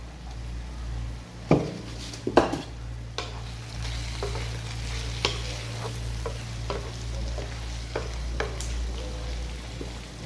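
Whole spices, coriander and curry leaves sizzle steadily in hot oil in a pot for a chicken aloo masala, with a constant frying hiss broken by a few sharp stirring scrapes and clinks.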